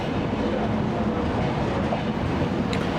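A passenger train hauled by a WAP7 electric locomotive rolls past, giving a continuous rumbling roar with wheel clatter, fairly close and alone.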